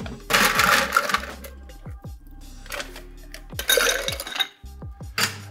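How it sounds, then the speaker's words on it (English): Ice cubes tumble into a cocktail mixing glass, a few separate loud bursts of clattering, cracking clinks with short pauses between them, close up and with no talk. "Fill that mixing glass with ice."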